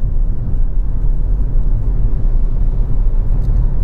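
Kia EV6 electric car driven hard through mountain corners in sport mode, heard as a steady low cabin rumble of road and tire noise with no talk.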